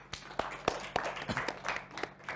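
Scattered claps from a small classroom audience applauding Mas Nathan, quick and uneven, picked up fairly close and fading out after a couple of seconds.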